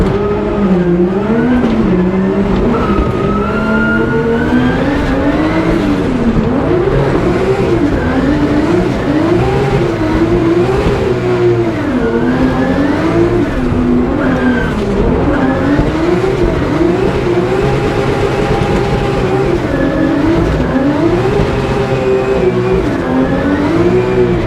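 A drift car's engine revs hard through a lap of a Drift Masters track, its pitch rising and falling in waves alongside tire squeal and skidding, loud and close for the whole stretch with no talking.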